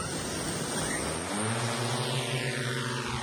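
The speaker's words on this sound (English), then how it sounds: "They're using this drone equipped with a laser to map our coast" A research team's laser-equipped mapping drone lifts off from its coastal launch position, its steady propeller whine and rising harmonic hum filling the air continuously and close by throughout.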